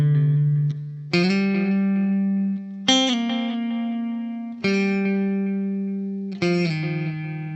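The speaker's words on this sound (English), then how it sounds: "Open chords. Some dotted delay." Clean electric guitar strums four open chords, each ringing out with a repeating dotted delay trailing behind, spaced evenly in a slow rhythm.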